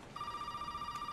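A telephone rings in Resident Evil 7, a steady electronic bell tone sounding alone at moderate level in a quiet, tense game scene.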